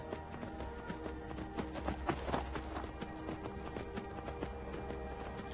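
Steady clip-clop of horse hooves galloping at a quick pace in the video game Skyrim, close and continuous, over a constant droning background.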